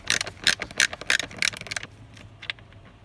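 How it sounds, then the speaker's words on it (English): A screwdriver turns a Torx 25 screw beneath a Ford Transit Custom steering wheel, giving a close series of sharp ratcheting clicks in quick bursts that slow to a few scattered ticks as the screw loosens. "So if I put my screwdriver there, I can undo that one."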